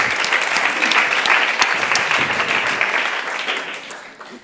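A conference audience in Barcelona claps warmly for a few seconds for a speaker, a dense burst of applause that gradually thins and fades out.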